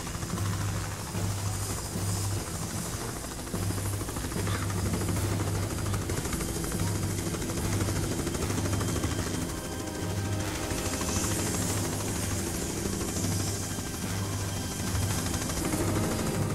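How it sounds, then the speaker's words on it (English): A helicopter hovers overhead in Tomb Raider: The Angel of Darkness, a continuous rotor throb with a pulsing low beat that pulses on and off over a dense, noisy in-game background. "Because the helicopter's up there, isn't it?"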